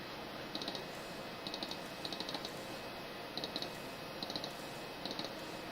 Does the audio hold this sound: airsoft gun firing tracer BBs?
no